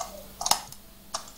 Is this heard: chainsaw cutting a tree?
no